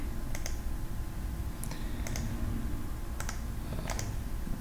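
A computer mouse clicks in quick pairs, about four crisp double-clicks spaced a second or so apart, close and quiet against a steady background hum.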